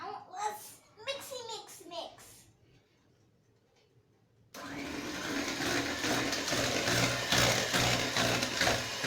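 A six-year-old girl mixing sugar-free banana bread batter, someone talking first, then a loud steady whirring mixer drone running to the end.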